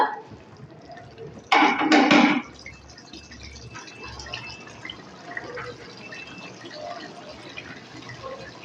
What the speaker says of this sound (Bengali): আমি অল্প করে জল দিয়ে দিলাম জলটা অবশ্যই গরম জল দিতে হবে